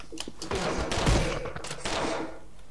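Rapid gunfire rattles in the first-person shooter Anger Foot, bursts of shots overlapping in a dense, loud volley over a couple of seconds.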